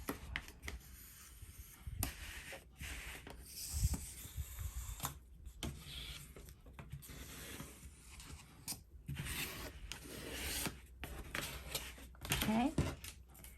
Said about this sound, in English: I'm going to go ahead and burnish that down